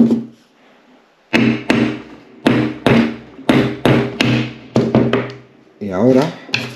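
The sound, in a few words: hammer striking socket wrench to drive out pin, VW T4 linkage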